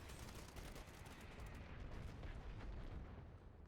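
Airstrike explosions in the online shooter Dirty Bomb, a dense continuous rumble of blasts and crackling gunfire filling the whole stretch at steady loudness, with no talk over it.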